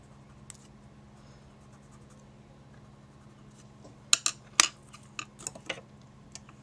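Inktense colored pencil scratching across paper, a faint, quiet texture under low background hum, then a brief cluster of sharper tapping and scribbling strokes toward the end.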